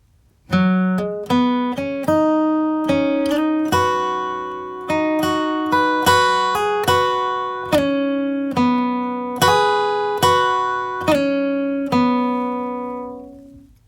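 A flatpicked acoustic guitar plays a short melodic line of single notes, clear and close, each note ringing briefly before the next.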